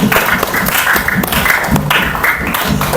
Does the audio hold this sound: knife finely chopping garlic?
no